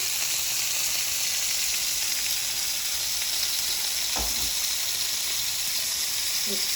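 Steak searing hard in a greasy pan, a loud dense unbroken sizzle and hiss up close, with a single knock partway through and a faint clink near the end.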